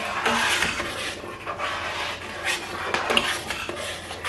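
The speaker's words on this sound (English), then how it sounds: "Okay, so I'm going to stir that." A spoon stirs Niger-Delta banga soup in a small pot, giving repeated scraping and clinking of metal against the pot in uneven strokes, close and clear with no talking.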